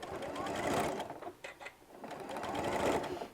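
A sewing machine stitches fabric for a storage pod in two short, fairly quiet runs of rapid whirring with a brief pause between them.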